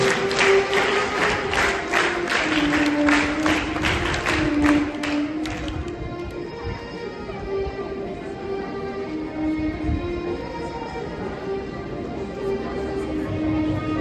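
Scouts at a school investiture ceremony clap in a sharp, rhythmic burst for about six seconds before it stops, leaving a sustained hum and murmur in the hall.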